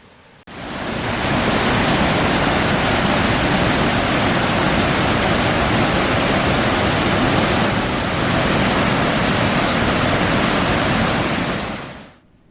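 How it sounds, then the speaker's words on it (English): Water pours steadily over a lowhead dam into a river in Ontario, a loud, continuous broadband rush that holds unchanged for about eleven seconds before cutting off. "This is the Lowhead Dam, used to ensure there is a minimal flow of water into the river."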